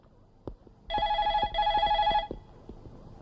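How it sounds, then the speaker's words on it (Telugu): A telephone bell rings in two long bursts with a short gap between them, loud and close, with faint background noise around it. "ఫోన్ రింగ్ అవుతుంది అర్థమే."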